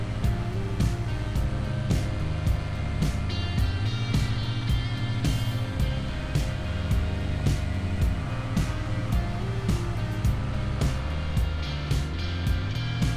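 An old John Deere tractor pulling a six-row planter in Farming Simulator 25, its engine droning steadily and close with a regular clatter of mechanical ticks throughout, no talking.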